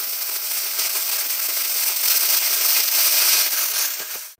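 An NRT Pro 9750 B angle grinder with a bottom-mounted switch runs close up at around 9,800 RPM, giving a loud, steady high-pitched whine that holds for several seconds before cutting off abruptly.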